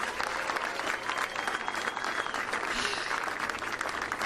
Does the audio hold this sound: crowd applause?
yes